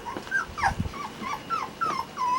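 Several young puppies whimpering and yipping in short rising and falling cries, close by and fairly quiet, a few rapid whines overlapping with light shuffling in between.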